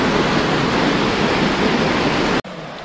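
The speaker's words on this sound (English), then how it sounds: "Hopefully you can hear me over the raging water." Loud, continuous roar of rushing water from a raging waterfall in Banff National Park, steady throughout and then abruptly cut short.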